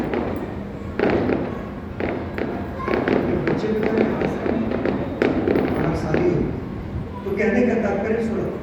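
Firecrackers go off during a Hindu religious gathering telling the Govardhan Puja story, with repeated sharp pops and thuds scattered through dense crowd noise and overlapping voices.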